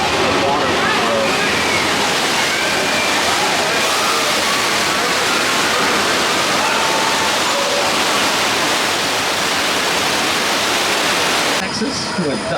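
Water gushes loudly and continuously during the Universal Studios Hollywood tram tour, a dense rushing roar filling the whole scene with faint voices underneath, then cutting off sharply near the end.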